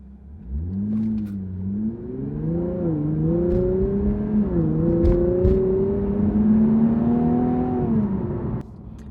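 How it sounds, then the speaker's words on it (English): An Infiniti Q60 Red Sport pulls hard at full throttle, the engine note climbing steadily in pitch through the gears over about nine seconds, loud and continuous from inside the car with no talking. "I'm gonna mash the throttle and see what happens."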